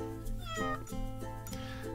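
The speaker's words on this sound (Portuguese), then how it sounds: "a primeira coisa que fez ao entrar na casa foi dizer miau" A cat meows several times in quick succession, close and clear, with drawn-out tonal cries and short gaps between them and no talking.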